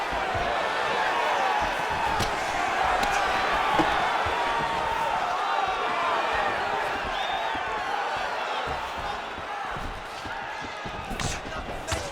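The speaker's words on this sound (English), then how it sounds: "Stand and cheer, ladies and gentlemen." A steady arena crowd roars and cheers throughout a bout in the EA Sports UFC 5 video game, a dense continuous wash of noise with occasional sharp impacts, while commentators talk over it.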